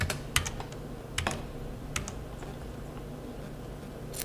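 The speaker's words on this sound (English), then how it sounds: "You type in there your code." Someone types a code on a computer keyboard in an office billing program, a few quick soft key taps in small clusters, close and quiet, with no voices.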